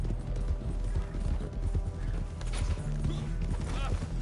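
Horse hooves clip-clopping in Red Dead Redemption 2 Online, a steady patter of steps under a continuous low game soundscape, with occasional faint voices nearby.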